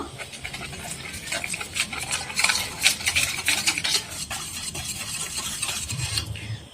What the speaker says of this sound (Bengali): নুন পরিমাণ মতো জল দিয়ে দিচ্ছি ব্যাটার গুলে নেওয়ার জন্য